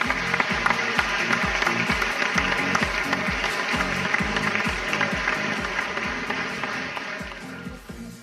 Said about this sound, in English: Let's give a big round of applause to our CEO